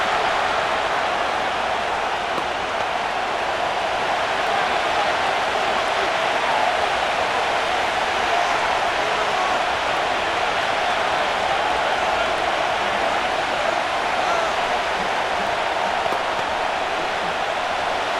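Steady roar of a stadium crowd in the Madden NFL 25 video game, Giants against Bills in a preseason game, a dense continuous wash of cheering noise at even loudness throughout.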